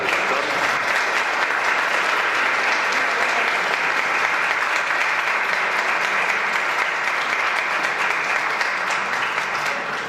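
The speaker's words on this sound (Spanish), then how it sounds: "un fuerte aplauso al doctor" Loud, sustained applause from a conference audience for a doctor, a dense steady wash of clapping holding at full strength throughout without a break.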